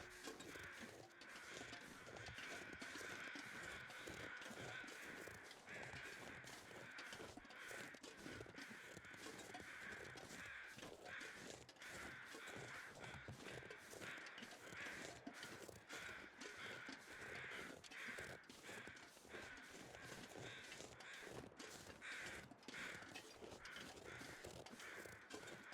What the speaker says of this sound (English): There's a lot of crows in the area right now.